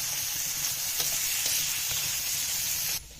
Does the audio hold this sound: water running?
no